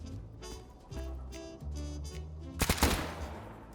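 Rapid gunfire in the video game Stalker GAMMA: steady bursts of automatic fire with a few sharper, louder shots near the end, heard alone with no talk.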